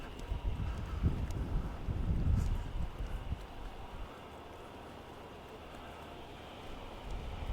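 Wind gusting across a waterfront dock in Charleston in the aftermath of a hurricane, a steady broadband rush with stronger buffeting in the first few seconds before settling into a lower, even roar.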